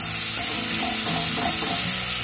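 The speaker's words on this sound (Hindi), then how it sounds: "मसाले को अच्छे से भून लेंगे। इसे लगातार चलाते रहेंगे।" Spice masala with finely chopped tomato and crushed kasuri methi sizzles steadily in a pan while a spoon stirs and scrapes through it continuously, close and fairly loud throughout.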